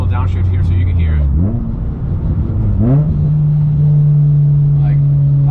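Car engine and loud exhaust during a downshift: a deep rumble that swells with a rev blip around the gear change, then settles into a steady drone, close and loud.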